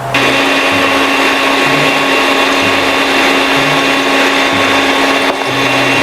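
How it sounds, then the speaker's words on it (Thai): An electric mixer with whisk attachments beats sugar for a chocolate cake, giving a loud, steady motor whine that runs unbroken, close up, with a faint rhythmic knocking of the beaters in the bowl. "เอาหัวตะก้อใส่เลยครับปึ๊บ ช้อนมา น้ำตาลไปก่อนครับหนึ่งช้อนครับแล้วเราก็ตีครับ"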